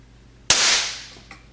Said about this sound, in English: we're going to check the trigger pull with the Lyman trigger pull gauge